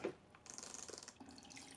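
Tap water runs steadily into a sink while engine parts from a 2008 Acura MDX, including cylinder-head components, are cleaned over it with a brass brush, with a few faint clinks at the start and end.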